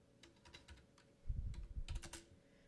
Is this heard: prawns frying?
no